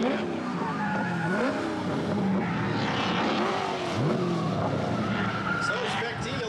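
Race cars in a Spec D round, including a Subaru BRZ, squeal and skid their tyres around a track while engines roar and rev loudly nearby; a commentator talks over the noise throughout.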